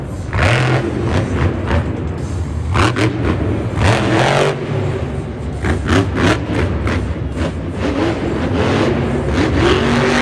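The Grave Digger monster truck revs hard in a Monster Jam arena show in St Louis, 2022, its engine roaring loud and close in repeated surging bursts with thuds and crowd noise underneath.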